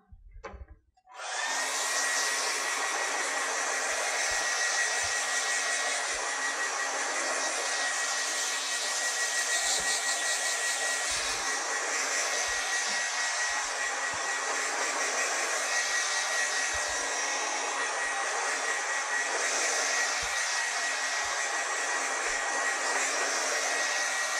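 A hair dryer blows on wet paint on a canvas, switching on after a brief moment and then running as a steady, loud, close whoosh for the rest of the time, with faint knocks underneath.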